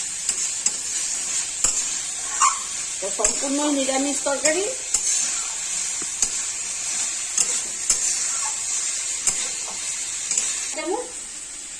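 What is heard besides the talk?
sautéing potatoes and soybean chunks in a pan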